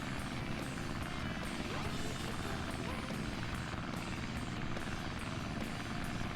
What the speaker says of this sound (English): Plane's cool.